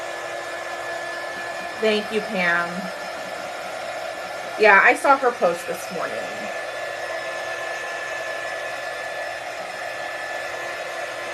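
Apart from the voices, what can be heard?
hair dryer drying paint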